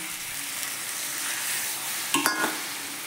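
Chicken kosha sizzles steadily in a pan as frying hiss fills the air, then a sudden louder burst of spitting and crackle erupts near the end as water is poured in.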